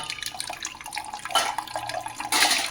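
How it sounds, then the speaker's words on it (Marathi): Water runs into a metal cooking pot set to heat for a chicken curry, a steady splashing wash with two louder gushes near the middle and end, close and alone without talk. "हे पहा आता मी या पातेल्यामध्ये पाणी गरम करण्यासाठी ठेवत आहे"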